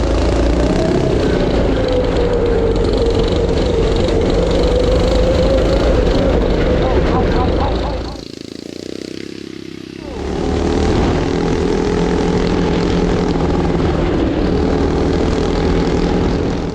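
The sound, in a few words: turbocharged coffin go kart engine accelerating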